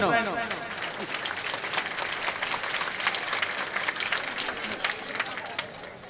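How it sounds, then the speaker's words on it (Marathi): Audience at a village kirtan applauding in a dense, steady burst of clapping that carries through the whole stretch, with voices over it. "टाळ्या वाजवा"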